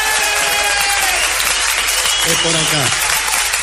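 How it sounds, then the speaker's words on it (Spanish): Audience ovation for Patricio Barton, dense continuous clapping filling the room at close, loud level, with a voice speaking briefly over it. "Vamos a saludar con una ovación inolvidable a Patricio Barton"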